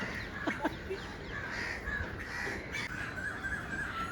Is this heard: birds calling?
yes